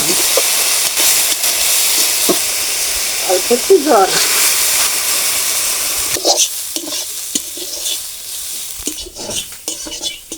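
Potatoes frying loudly in a kadai, a dense sizzle with spatula scrapes and clatter, the hiss thinning and turning crackly partway through.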